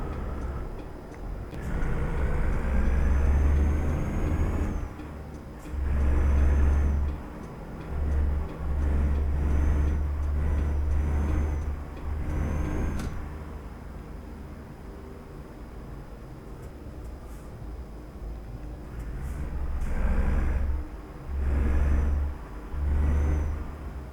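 Trailer trucks rest at a roadside fuel station in Tegal, with heavy diesel engines idling and revving in repeated low rumbling bursts, plus passing traffic and faint ticking over a steady background.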